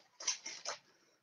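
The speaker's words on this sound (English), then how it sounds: "My dog right now is dreaming of chasing something." Faint, soft whimpering from a sleeping dog dreaming, three quick muffled yelps in a row, quiet and brief in the background.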